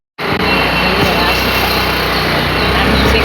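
A two-wheeler engine runs while being ridden, starting abruptly and holding a loud, continuous high buzzing drone right up close.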